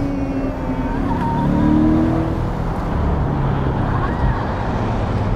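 Chevrolet Corvette convertible cruising on the road with a steady engine drone, tire roar and buffeting wind, loud and continuous throughout as it passes a Toyota Camry.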